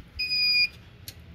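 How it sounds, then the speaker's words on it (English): A power inverter sounds a high electronic alarm beep, one steady tone held about half a second, then a faint short blip after a pause, over a low background hum. "Inverter's beeping because... I got my heater on."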